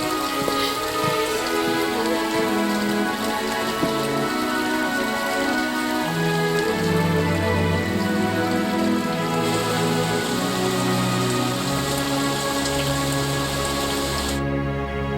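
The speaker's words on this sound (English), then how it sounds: "It appears that the rain is a worldwide phenomenon, dousing the fires" Steady, dense rain hisses throughout, with sustained musical tones playing underneath.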